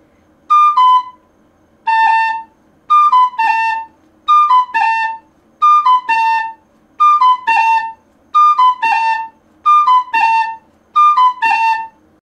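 Tin whistle notes played with a tap ornament, a brief lower-note articulation, in a repeating pattern of about nine short phrases, each with rapid grace articulations before a held note. Clear, close and alone, with no talking.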